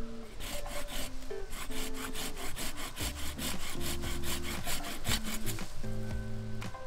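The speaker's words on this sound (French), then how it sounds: "là on prend une petite scie pliable" A small folding hand saw cuts through hornbeam wood in quick, rhythmic back-and-forth strokes, close and steady throughout.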